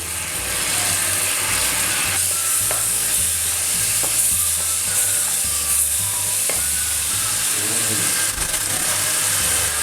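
Pineapple pork ribs sizzling loudly in a wok as white vinegar goes into the sauce, with constant frying hiss and repeated clattering, ratchet-like scraping of a utensil against the pan, close and dense throughout.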